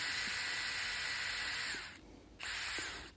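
A power drill pre-drills holes for heavy-duty workbench hinges, a loud steady whine that stops briefly and then starts again.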